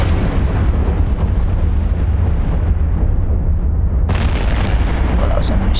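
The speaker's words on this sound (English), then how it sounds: "Well, that was a nice explosion." A spaceship explosion in the space game EVE Online, a loud booming blast with a rumbling low-end roar that swells, eases off, then bursts again partway through.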